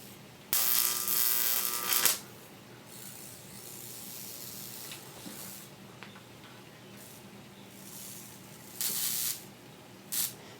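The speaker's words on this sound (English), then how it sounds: "I think the voltage is so high that it just jumps across all the connections." High-voltage electricity arcs from a pole pig transformer across connections in loud hissing, buzzing bursts. One long burst opens, fainter crackling follows, and two shorter bursts come near the end.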